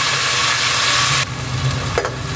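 Garlic ginger paste frying in a pot of lightly browned onions for beef white pulao, a loud close sizzle that suddenly softens partway through, followed by a brief stirring scrape.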